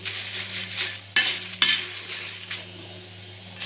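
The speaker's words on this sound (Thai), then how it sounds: "นี่ค่เราคั่วพริกป่น" Ground chili flakes dry-roasting in a pan produce a soft, dry rustle of stirring, broken by two sharp scraping strokes of the utensil against the metal. There is no speech.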